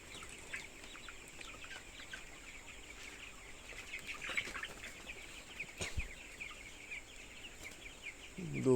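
Twenty-day-old broiler chickens cluck and chirp softly throughout a poultry house, a constant faint flock murmur with a few louder clucks and a nearby thump near the end.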